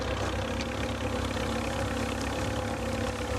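A Fordson N (Fordson Standard) vintage tractor engine idling steadily at a ploughing championship, a loud, even low chug with no voices over it.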